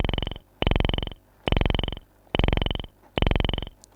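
A modular synth drum voice shaped by a 4-quadrant multiplier on a Frap Tools system, recreating a well-known track: five regularly spaced buzzy, rattling pulses, each about half a second long, repeating in a steady rhythm.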